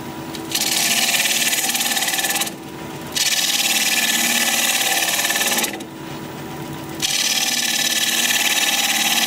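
A wood lathe spins a wooden vase at about 1100 RPM, a loud, steady broadband rasp of turning that holds for a few seconds, drops off briefly twice, and resumes each time.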